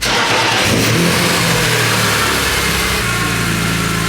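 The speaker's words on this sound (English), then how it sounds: "So now I can go ahead and start the car." A BMW car engine with open velocity stacks cranks and catches, then revs loudly before settling into a steady idle rumble, close by.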